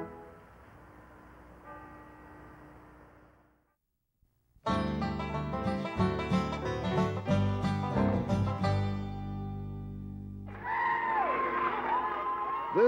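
A street crowd cheers and shouts at a skill olympics parade of champions, a loud sustained roar of voices and whoops with children's shouts, following a quieter stretch and briefly dropping out before it swells.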